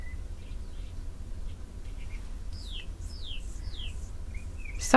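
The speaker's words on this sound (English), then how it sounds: "Sorry about the loud birds." Songbirds call outdoors: a series of sharp, descending chirps and a few short tweets repeat over several seconds above a steady low background rumble, moderately near but not loud.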